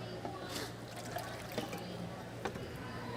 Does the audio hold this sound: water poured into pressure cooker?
yes